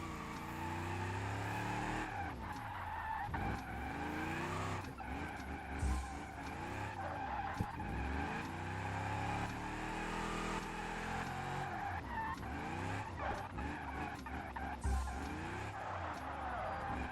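A car skids after a handbrake pull in a racing video game, tires squealing repeatedly over a loud, constant engine roar, with sweeping pitch changes as it slides and recovers.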